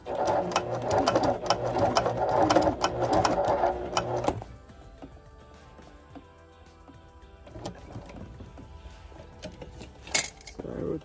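Sewing machine stitching leather for clogs, running fast and loud with a dense mechanical rattle for about four seconds, then stitching more slowly and quietly with intermittent whirring.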